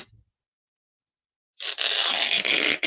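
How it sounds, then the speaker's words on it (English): Paper is torn by hand for a homemade art journal, a short silence giving way to a close, loud, continuous ripping that runs for over a second with a few rough catches. "Let's see if we can tear it this way"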